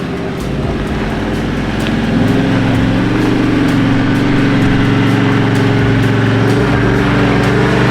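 V8 engine of a manual 4x4 crawling in first gear low range up a steep gradient, a loud, steady low rumble that holds continuously throughout, with no talk over it.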